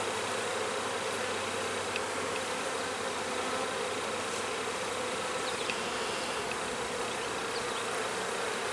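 Honeybees buzz continuously and densely around an open hive during an inspection, a steady close swarm hum with no pauses and no voices.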